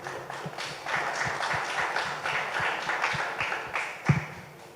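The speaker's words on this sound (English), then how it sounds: "let's give me a round of applause." Conference audience applause, a moderate patter of hand claps from a modest crowd, with a sharper knock near the end.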